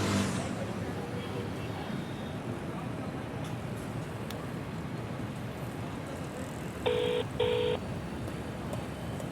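Two short electronic keypad tones from a telephone being dialed ring out back to back, set against a steady, broad background hum like passing traffic.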